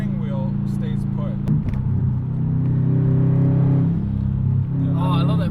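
A 2016 Subaru WRX STI engine with an AEM cold air intake rumbles nearby, its pitch rising and settling as it revs, with voices talking over it.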